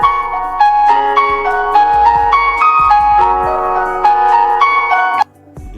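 Background music in a phone editing app: a steady, bright melodic tune with sustained tonal chords and a light rhythmic pulse, playing alone at moderate loudness and dropping abruptly near the end.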